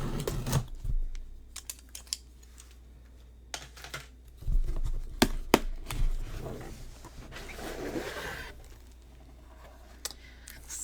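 Scissors snip and cut at a cardboard mystery box package up close, with scattered sharp clicks and crinkly rustling in a quiet room, no talking.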